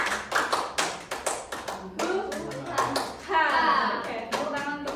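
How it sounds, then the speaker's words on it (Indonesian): A classroom of children claps out a rhythmic spirit-clap pattern in quick, sharp bursts that group into counted sets, loud and close, with a teacher's voice and kids' voices mixed among the claps. "tepuk semangat 1, tepuk semangat 2, tepuk semangat 3"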